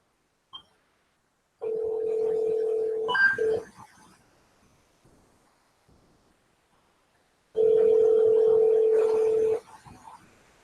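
Telephone line tones during an outgoing call: two long, steady, fairly loud tones, the second arriving after several seconds of near silence and each cut off cleanly, with faint clicks between them.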